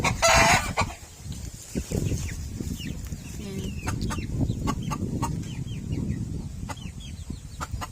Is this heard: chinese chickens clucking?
yes